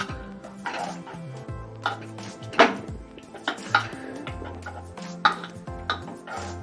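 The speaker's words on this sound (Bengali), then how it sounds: "আমি এবারে এই মেশাল দিয়ে একটুখানি টমেটোটা গলিয়ে নিচ্ছি।" A metal masher clinks and scrapes against a pot while mashing soft boiled tomato into dal, with irregular clanks and wet squelching strokes heard close and alone, no voices.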